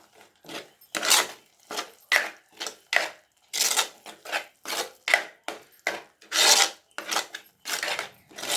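Chilli powder being stirred into an onion-tomato masala in a pan for a Tamil fish curry: a near, loud run of rhythmic spoon scrapes and rasps against the pan, about fifteen strokes in quick succession with no talk.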